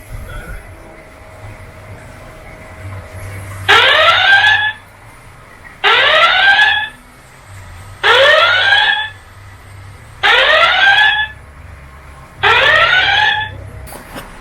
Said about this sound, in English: So I'm going to activate the siren.